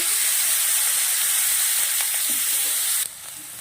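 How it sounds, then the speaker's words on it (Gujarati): Chili-amla thecho sizzles in hot peanut oil with mustard seeds, cumin and asafoetida, a loud steady frying hiss close by that drops to a quieter sizzle near the end. "ઠેચાને હવે તેલના અંદર થોડી વાર સાતળી લેવાનો છે."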